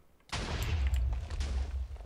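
TNT cannon firing in a Minecraft factions game, a sudden loud blast followed by a dense, sustained rumble of rapid explosions lasting about two seconds.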